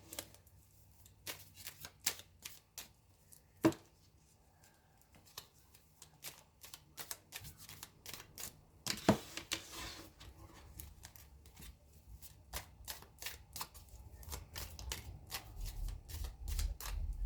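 Tarot cards being shuffled by hand, giving repeated quick riffling and flicking bursts in an irregular rhythm, close and fairly quiet with a faint background hum.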